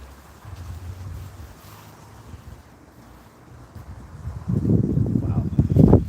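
Strong wind buffets the microphone at a winter campsite, a low rumbling roar that swells and gusts louder toward the end, with no other sounds standing out.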